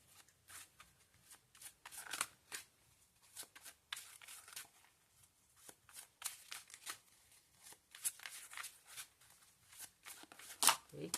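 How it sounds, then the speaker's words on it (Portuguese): Tarot cards shuffled and drawn by hand, a quick run of soft papery riffles, slides and snaps in an irregular rhythm, close and fairly quiet, alone without talk. "Eu vou tirar mais 2 cartas para complementar."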